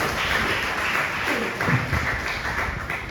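A church congregation at a Spanish-language sermon bursts into continuous applause for Jesus Christ, many hands clapping at moderate volume with a voice faintly audible beneath.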